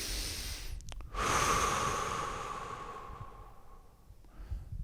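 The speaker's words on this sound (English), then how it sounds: "Now you have the chance to consciously take a deep breath." One slow, deep breath close to the microphone, a long airy inhale that swells and then fades gradually, with a soft exhale at the end and no talking.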